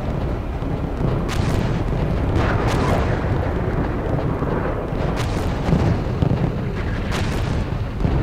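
Heavy artillery explosions boom across a Steel Beasts Pro tank battle on the North German Plain, with a constant roaring wash of blasts and rumble and several sharp bursts standing out, loud and dense throughout.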